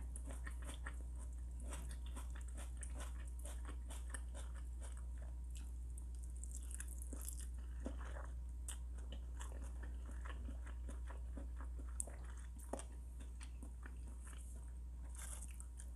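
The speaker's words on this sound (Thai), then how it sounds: "เดี๋ยวเรามาลงมือกินกันเลยนะคะ" Someone bites and chews Thai octopus with papaya salad, rice noodles, pork cracklings and fresh okra close to the microphone. The moist, crunchy chewing continues throughout over a steady low hum, with no speech.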